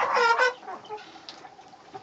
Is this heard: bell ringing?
no